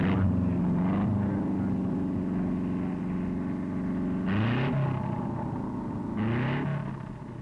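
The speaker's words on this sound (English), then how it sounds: "The engine is started by a power unit." A 1950s MG record car engine, tuned for sprinting at the Bonneville Salt Flats, runs at a steady drone with two brief revs toward the end, at moderate loudness.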